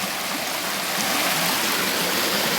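Water spills steadily over a waterfall-like drop beside concrete walls and hard, marble-like riprap stones, a loud, continuous close-up rush that holds from start to finish with no one speaking.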